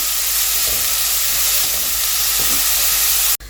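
Crushed ginger and garlic frying in hot sunflower oil, a loud, steady, close sizzle that holds without a break, with a few faint stirring scrapes, ending in a sudden cut.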